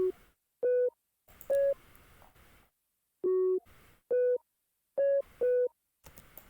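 Melody loop of short synth tones built in FL Studio for an old type beat, heard alone in a spaced, stuttering rhythm: clipped held notes in bursts with brief bright noise hits between them, fairly loud.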